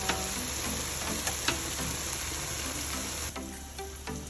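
Chicken fillet pieces frying in hot oil for Korean fried chicken, a steady dense sizzle with occasional sharper pops and crackles, close and continuous without any talk.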